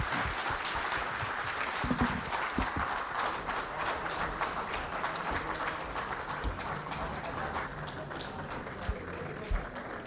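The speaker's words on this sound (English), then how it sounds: "Let's give him a very, very warm round of applause." An audience at a New Delhi conclave applauds the Sikkim chief minister with dense, sustained clapping filling the hall, loud and continuous with occasional sharper claps, and faint voices underneath.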